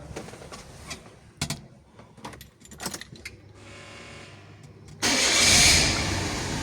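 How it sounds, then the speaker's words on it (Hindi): A Suzuki Alto fitted with a K6A 660cc automatic engine cranks and fires up near the end, preceded by clicks and clunks, then settles into a loud, close, steady idle. "और अभी हम गाड़ी स्टार्ट करते हैं दोबारा।"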